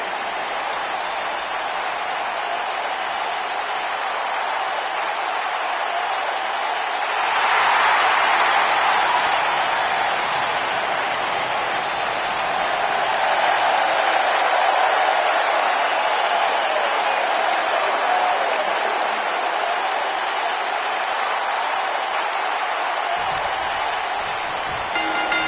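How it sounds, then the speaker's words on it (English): Wrestling arena crowd in WWE 2K19 roaring steadily throughout, a broad sustained cheer that swells louder around the middle and stays dense and continuous from start to finish, with no clear talk. "it sounds to me like the crowd is more than ready for this one"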